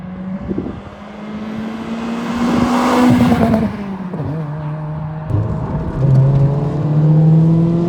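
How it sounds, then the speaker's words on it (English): A Toyota Celica on dampening-adjustable coilovers revs hard while being driven, its engine note climbing and falling loudly and close, with smooth rising pitch sweeps and sustained high-rpm drone. "this thing encourages you to rev."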